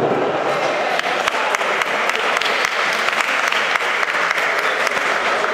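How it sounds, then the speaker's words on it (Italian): A boxing crowd applauds a fighter's ring introduction, continuous dense clapping with sharp individual claps standing out near the microphone throughout. "facciamo un grande applauso a Sandri Villalobos"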